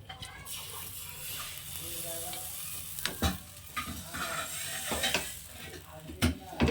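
White patishapta batter sizzles and fries on a hot tawa, a close, crackling hiss with stirring scrapes and sharp utensil clinks scattered through it.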